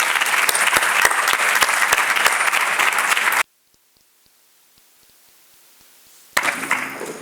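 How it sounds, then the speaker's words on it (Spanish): Loud applause from an audience at a diocesan family event, steady dense clapping for about three seconds, then a near-silent gap, then the clapping bursts back in. "Y un aplauso muy grande también."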